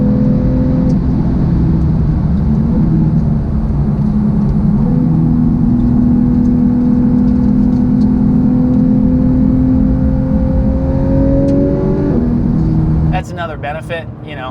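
A Porsche 911 GT3 RS accelerating on a road, the engine note loud and close, rising steadily in pitch over several seconds before easing off, followed by a brief burst of other noise at the end.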